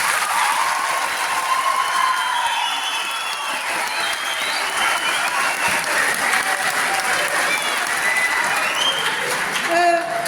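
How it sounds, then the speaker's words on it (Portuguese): Steady, dense applause from an audience at an interview event, holding at a constant level for about ten seconds with faint voices mixed in beneath the clapping. "dei-lhe uma salva de palmas"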